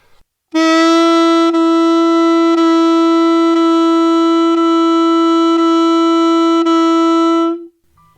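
A saxophone holds one steady note, softly re-tongued about once per second with no gaps, making a smooth connected legato line that fades out at the end.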